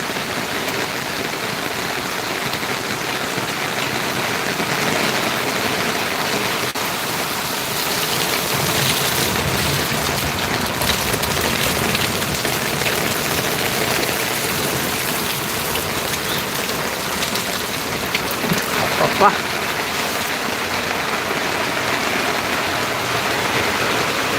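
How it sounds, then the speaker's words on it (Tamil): Heavy rain pours steadily onto a rooftop during a thunderstorm, a dense, constant hiss of drops throughout, with no voices. "நல்லா மழை பெஞ்சு கிடக்கு"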